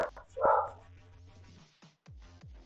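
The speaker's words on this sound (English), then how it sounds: "The dogs are barking again." Dogs bark indoors in a few short bursts, with one loud bark early and softer yips and whimpers after it, close by and fairly quiet overall.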